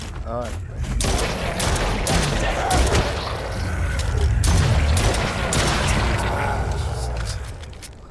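Rapid gunfire from the video game Stray Souls as a full magazine is emptied, a dense, loud burst of shots with mechanical clatter running almost the whole time, while a voice talks over it.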